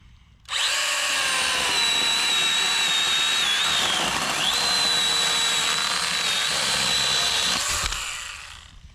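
A Stihl GTA 26 cordless pruning saw cuts through branches with a loud, steady high-pitched motor whine that holds for about seven seconds, dipping briefly mid-cut before fading out.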